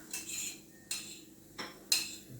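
Fried onions are moved out of a frying pan with a utensil, giving four short metallic scrapes and clinks at an uneven pace, close and moderately quiet, with no talking.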